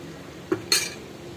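A spoon scrapes once and then clinks sharply against a metal pot of thickening vegetable soup, two brief close sounds over a quiet kitchen background.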